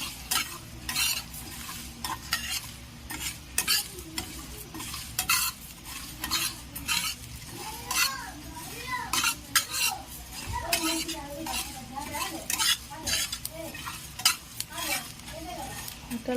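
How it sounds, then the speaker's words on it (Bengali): Spices fry and sizzle in a pan for Bengali mango oil while a spoon scrapes and stirs them in steady, repeated strokes, close and fairly quiet, with a faint voice now and then. "এটা লাল লাল করে ভেজে নেব।"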